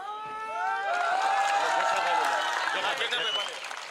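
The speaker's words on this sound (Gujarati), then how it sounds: "જોરદાર તાળીઓના ગડગડાટથી વધાવીએ" Applause from an audience at a felicitation ceremony in Rajula welcoming Amreli district panchayat leaders into the BJP: a dense, sustained wash of clapping and crowd noise over a tonal background for most of the four seconds.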